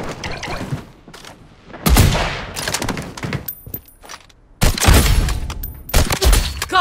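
Bursts of gunfire in the shooter game Blood Strike, with loud broadband shots clustering in two heavy volleys and sparser single cracks between them, close and punchy.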